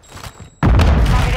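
Semtex grenade detonating in Call of Duty Modern Warfare 2 multiplayer: faint gunfire and game noise, then a sudden loud, close blast that rumbles on with a heavy low roar.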